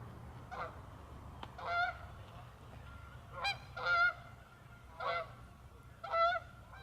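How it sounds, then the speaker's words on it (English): Several geese honk in scattered bursts overhead, fairly distant and soft, against a quiet low background hum. "bunch of geese flying over."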